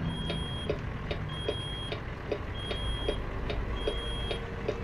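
A truck's brake warning beeps over and over in a steady quick rhythm, high and electronic, above a constant low engine rumble, in the video game American Truck Simulator.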